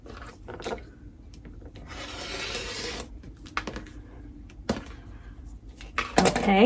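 A rotary or blade cutter slices a 3-inch strip from quilting fabric on a cutting mat, giving faint scraping and rubbing strokes with small knocks and handling noises in a quiet room.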